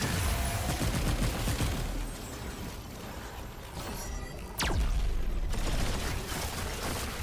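The cube gun fires in Remnant 2, giving a dense crackling barrage with a sharp whooshing sweep near the middle, heard loud and nearly alone.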